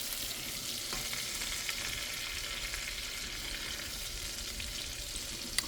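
A ribeye steak frying in a pan gives a steady, broadband sizzle with a few faint crackles, fairly loud and continuous, with no talking.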